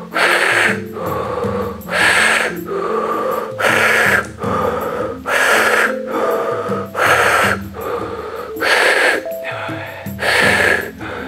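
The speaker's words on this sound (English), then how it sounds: "Rock and roll, last set, hard breathing exercise." Forceful rhythmic breathing during a stress-relief breathwork set, with about eight loud, even bursts of inhale and exhale in steady succession and music underneath.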